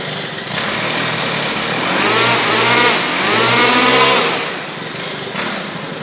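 A Stihl KombiSystem power head fitted with a trimmer head fires up and runs, a loud, high-pitched buzzing whine that revs up and falls back twice before settling.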